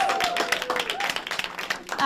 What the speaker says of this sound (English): I think we get a little cheering up from the audience about some musicians that are going to be here tonight